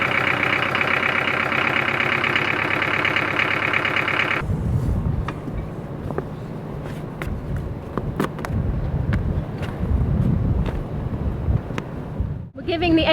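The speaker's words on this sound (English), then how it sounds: "We're giving the engine a hard run." A boat engine drones hard at about 2,000 RPM for several seconds, then gives way to low rumbling, wind buffeting and scattered knocks and clicks.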